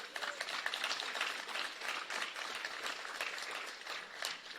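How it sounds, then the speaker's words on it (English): A hall of fame awards night audience breaks into sustained applause honoring local heroes, a dense steady wash of many hands clapping that holds without pause, with no talking heard over it. "Give a round of applause for our Hometown Heroes, please."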